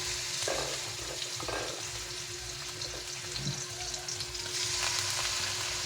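Cubed pork fries in a pan for adobo, a steady, soft sizzle with occasional faint scraping and stirring sounds and no voices.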